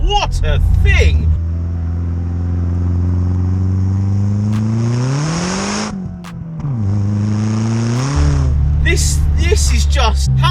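VW Polo 6N2 with a swapped 1.8 turbo engine making about 220 bhp accelerates hard, engine roaring up through the revs with gear shifts and a brief dip between them, close and loud, while someone speaks over it.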